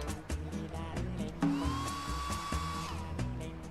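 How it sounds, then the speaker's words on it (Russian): A hair dryer switches on in the game Smeshariki, a whirring electronic whine that holds steady for a second or two over soft background music. "Куда этот фен девать? А, сушить мостик, точно."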